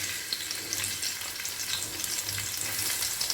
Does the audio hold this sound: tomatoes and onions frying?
yes